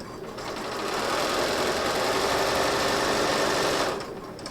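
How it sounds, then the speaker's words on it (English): A sewing machine chain piecing fabric strips, its motor whirring up to a steady fast rattling stitch run, then slowing to a stop, close and alone. "I'm going to sew these together in sets of 2, but I'm not going to stop after each one."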